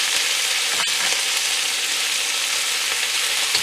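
Peppers sizzle in a frying pan with old sheep meat, a steady, loud hiss of frying with no talk over it and one brief clink partway through.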